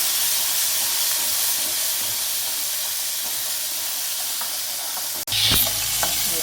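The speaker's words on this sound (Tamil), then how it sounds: "இப்போ சுண்டைக்காயை ஆட் பண்ணுறோம் இது நல்லா அப்படியே வறுத்து வரணும்" Steady hissing sizzle of turkey berries frying in a hot pan, continuous and close, with a brief clatter and sharper crackle near the end.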